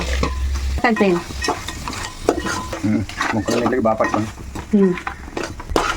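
Crabs for a tamarind crab stew dropped into hot oil and stirred fast, a strong sizzle burst giving way to repeated clattering spoon scrapes and pan knocks, close and busy, with brief voices between.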